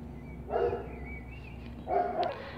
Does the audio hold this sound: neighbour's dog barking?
yes